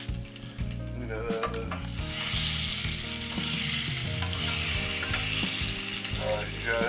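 Salmon sizzles and crackles steadily in a Ninja Foodi XL Grill air fryer, a bright hissing spit that grows louder after a clattering mechanical start.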